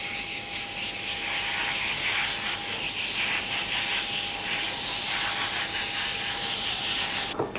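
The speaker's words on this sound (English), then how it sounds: "we're going to give these a very generous coating of spray oil on both sides" A steady, close hiss of cooking spray oil coating raw crumbed chicken tenders runs continuously for several seconds before cutting off abruptly.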